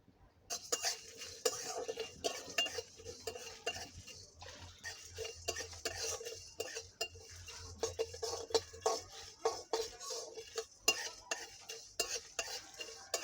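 Whole spices and dried red chilli being dry-roasted in a pan, with quick clattering stirs and scraping of a utensil against metal, a faint sizzle underneath and brief pauses between bursts of stirring.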